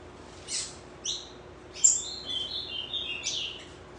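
A caged papa-capim seedeater sings in a series of high, bright chirps and short trilled phrases, close and clear against a quiet background hiss.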